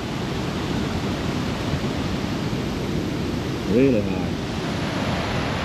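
High river water rushing over boulders makes a steady, dense roar that fills the whole stretch, with a brief spoken word near the end.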